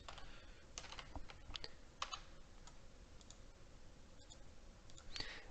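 Someone typing on a computer keyboard while filling in an online event registration form, quick irregular key clicks, faint and close with a steady low background hiss.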